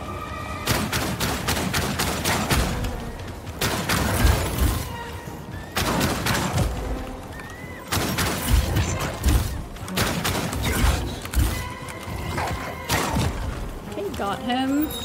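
Repeated sharp gunshots crack through busy combat noise in the video game Outcast: A New Beginning, firing in irregular clusters with thumps and shattering impacts while a player talks throughout.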